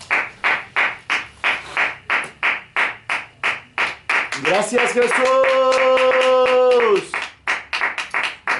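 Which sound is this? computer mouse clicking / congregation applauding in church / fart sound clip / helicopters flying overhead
congregation applauding in church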